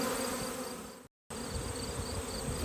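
Honeybees swarm around a robbing box in a dense, steady buzzing hum, close and continuous, broken by a brief moment of silence.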